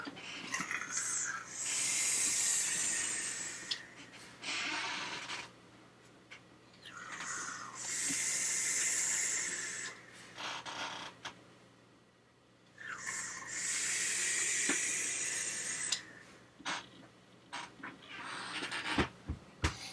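Airflow hisses through a Bakero RDA atomizer as someone vapes, three long breathy draws of several seconds each separated by quiet pauses, close and fairly soft.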